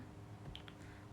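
Two quick, light clicks of computer keyboard keys pressed close together for a Ctrl C copy shortcut, faint and close against a quiet background hum.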